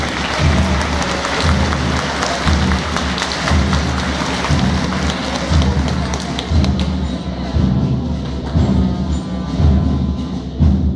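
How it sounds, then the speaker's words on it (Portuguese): A crowd applauds during a Saint Anthony's Day procession in Campanha, Minas Gerais, welcoming a local community: dense, sustained clapping that stays loud throughout and keeps a roughly steady rhythm with some rising and falling swells. "Vamos dar uma salva de palmas para a comunidade Campo Grande."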